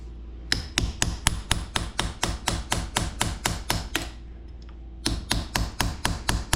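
Light, rapid hammer taps driving a power steering gearbox back onto a 1982 Dodge Ramcharger, a steady run of about two dozen sharp metallic strikes with a short pause before a final volley, close by.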